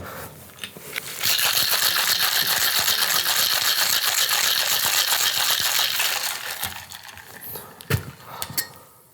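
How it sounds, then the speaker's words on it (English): Ice rattling hard inside a cocktail shaker during a blood orange cocktail, a dense steady shaking that runs for about five seconds, then tapers off into a few separate knocks and clinks. "I've got a shaker full of ice, so you know what's coming up next. It's shaky, shaky."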